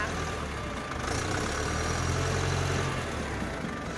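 A Ford 6610 tractor engine idles at a steady, close, moderately loud diesel rumble with no change throughout and no talk.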